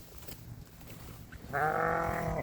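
A sheep bleats loudly and steadily from about the middle of the clip onward, one sustained harmonic call close by, after a stretch of quiet outdoor farm background on a pasture with low fences, the animals standing atop a wood chip pile.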